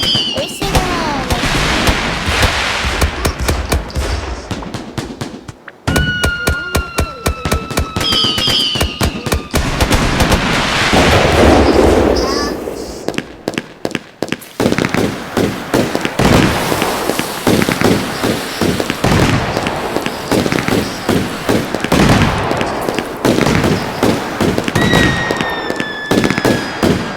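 Fireworks and firecrackers go off close by in dense, rapid crackling volleys with sharp pops, whistling streaks and booms. A few brief gaps break the barrage, which runs loud and nearly continuous for almost half a minute.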